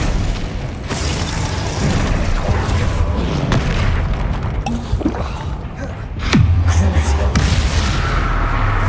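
Explosions from the Bombarda spell in the game Hogwarts Legacy: booming blasts and rumbling impacts over a dense, noisy game mix, with a sharp loud burst near the end and game voices present.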